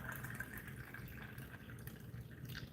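Freshly boiled mint tea made with fresh mint is poured into a cup, giving a steady, close liquid trickle with a bright ringing tone that runs unbroken for the whole stretch, with no voices.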